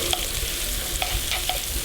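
Steady sizzling of onions frying in a pan, with occasional scraping clicks from stirring, loud and close, no talking.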